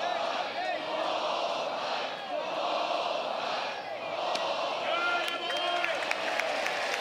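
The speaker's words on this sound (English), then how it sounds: "He's going to get greeted by a ball 5 chant now" A college baseball stadium crowd, Vanderbilt against Texas A&M, chants and roars in a sustained rhythmic swell, with a broadcaster's commentary on top.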